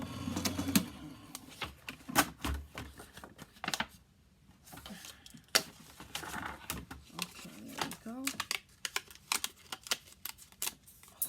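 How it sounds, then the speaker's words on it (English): A manual paper die-cutting machine cranks cardstock through its rollers with a run of clicking, ratcheting ticks in an uneven rhythm, while someone talks throughout. "Turn your machine on and let's run it through."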